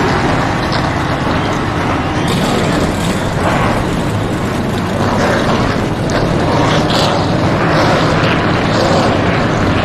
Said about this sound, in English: we are about to fire up the engines here